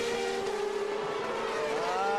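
Champ Car open-wheel race cars at the 2002 Motorola 220, engines droning at high revs with steady whining pitch and a second car's tone rising in passing, loud and continuous.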